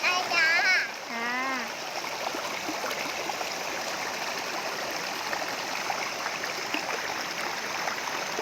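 Water rushes and splashes steadily at a waterfall at Khao Chamao in Rayong, a constant bright stream noise with a few playful splashes near the start, while a person talks briefly early on.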